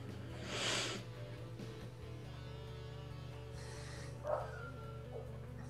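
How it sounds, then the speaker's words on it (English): Dogs bark a few times at a distance, faint yips and barks over a steady low electrical hum in an indoor room. "Oh, I hear dogs."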